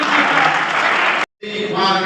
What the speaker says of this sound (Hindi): प्लीज जोरदार तालियों से